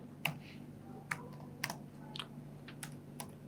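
Sparse keystrokes on a computer keyboard, about seven separate clicks with uneven gaps, close and faint over a low background hum.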